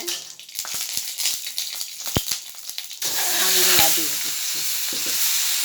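Mustard seeds crackle in hot oil for a mango chutney with peel and stone, scattered sharp pops and spoon clinks at first, then a louder continuous sizzle rising and holding, close, no talk.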